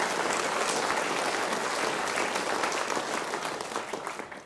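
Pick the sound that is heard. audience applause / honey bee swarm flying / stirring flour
audience applause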